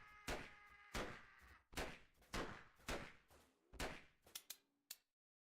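Repeated gunfire from a gun in the Space Station 13 video game: about eight sharp shots in uneven bursts, the last few quicker and lighter, fairly quiet and heard alone.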